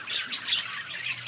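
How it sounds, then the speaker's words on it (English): Geese and ducks in a garden squawk and call in a busy overlapping chorus, close and fairly loud, with no talking over them. "Here in the garden, there is still a whole bunch of birds."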